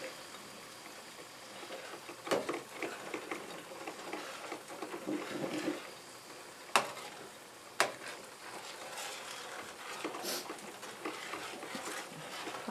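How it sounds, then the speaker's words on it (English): Sausage fries in a skillet on a home stovetop, giving a faint, steady crackling sizzle with scattered sharper pops and ticks throughout, with no talk over it. "I fry my sausage at a 4"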